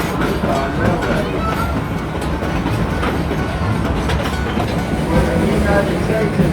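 Dollywood Express steam train number 70, a 2-8-2 locomotive with eight large drive wheels, rolls along the rails with a steady, dense rumble and continuous clatter throughout, close and fairly loud.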